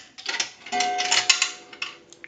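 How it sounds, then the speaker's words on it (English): A quarter rattles into an Automatic Electric three-slot payphone and a single metallic gong tone rings out, followed by clicks and clatter. "we're going to put it into the unit. Now this is going to gong one time"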